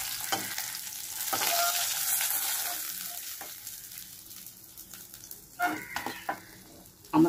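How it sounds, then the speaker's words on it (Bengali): Small whole loitta fish frying a few at a time in hot oil, a steady close sizzle that swells and fades with scattered sharp spatters and pops near the end; no talking. "এই লোটে মাছগুলো একটু আস্তে আস্তে করে আমি অল্প অল্প তিনটে করে ভেজে নিচ্ছি"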